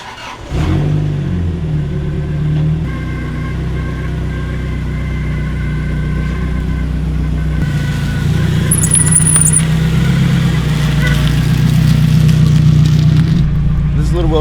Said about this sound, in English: This car is kind of loud